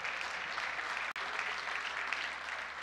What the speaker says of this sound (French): Est-ce que tu peux acclamer pour le roi des rois?